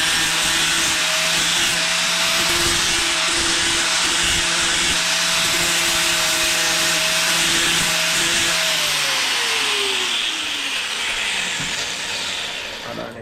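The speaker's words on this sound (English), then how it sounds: "I'm just going to run the grinder around the high spots of it" An angle grinder runs continuously on a welded metal tube, smoothing down the high spots of a hidden joint; a steady loud broadband whine with a sustained tone that sags in pitch near the end as the tool slows.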